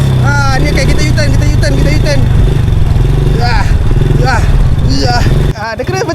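A motorcycle engine drones loudly and steadily close by during a wheelie, with its pitch rising and falling through throttle changes, and people talk over it.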